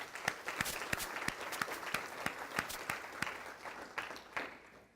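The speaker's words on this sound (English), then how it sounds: "Let's give them a round of applause." Room of employees at a company all-hands meeting applauding new hires, a moderate, fairly quiet round of clapping with several distinct nearby claps, tapering off toward the end.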